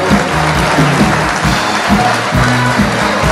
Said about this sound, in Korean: 박수 많이 주세요